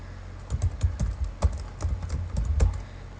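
Irregular clicking taps on a computer keyboard fill a short stretch as form fields are filled in, close and moderately loud, with quick clustered keystrokes and no talking.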